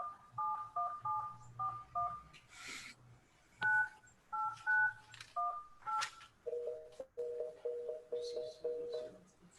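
A series of telephone keypad tones during a school board meeting, short beeps at differing pitches pressed in quick succession, with a few faint clicks between them.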